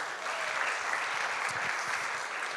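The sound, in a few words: applause in church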